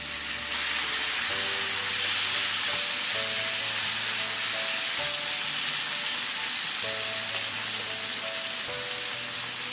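Two medium tomatoes frying in a pan while butter paneer is made, giving a loud continuous hiss and sizzle close by, with faint background music underneath and no talking.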